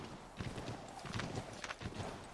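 Horse hooves clip-clopping in the Assassin's Creed 3 video game, a quick steady trot of hoofbeats close by, with faint game ambience underneath.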